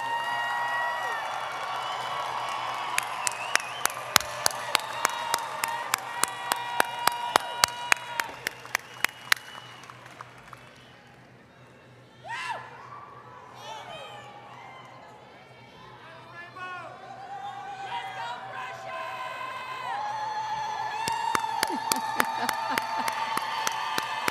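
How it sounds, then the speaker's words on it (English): Graduates at the Keiser University statewide commencement ceremony cheering and clapping, sharp claps and whoops in a big crowd that fade into murmuring, then swell again. "Cheer, wave, and thank them."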